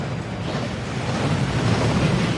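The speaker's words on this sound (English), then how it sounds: "That waterfall washes away all enchantments." Thief's Downfall, the enchantment-cleansing waterfall at Gringotts in Hogwarts Legacy, gives a steady, loud wash of rushing water that swells slightly toward the end, with no talk over it.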